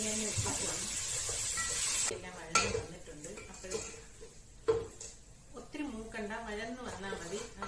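Chicken cooks in onion masala with oil separating, for chicken dum biryani. A soft sizzle sits under sharp clanks and scrapes of a ladle against the pot as it is stirred, with a voice speaking at times.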